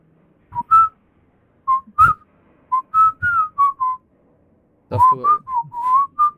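A person whistles a song loudly and clearly, short melodic phrases separated by brief pauses, close by with no talking.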